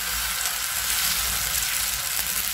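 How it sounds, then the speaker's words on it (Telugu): Oats dosa batter sizzles steadily in hot ghee on a pan, a dense continuous crackle close by with no voices. "కొంచెం నెయ్యి మరిగింది, దాని దోశ వేస్తున్నాను చూసారా"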